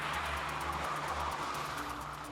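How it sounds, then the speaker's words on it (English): A car engine drones steadily close by as it drives into a Hollywood shootout, a low continuous hum with faint shifting pitch. "The car powers into a hail of gunfire."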